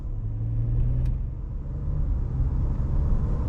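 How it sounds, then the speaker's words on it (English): A 2021 Ford F-150's turbocharged 2.7-litre engine pulls hard with a low, steady rumble and rising drone, heard from inside the cab with no talking. "You can even hear some turbo whistle and stuff out there as well"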